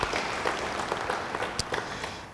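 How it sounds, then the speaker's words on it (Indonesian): A church congregation applauds together, a dense, sustained wash of many hands clapping at moderate distance from start to end. "beri tepuk tangan bagi dia."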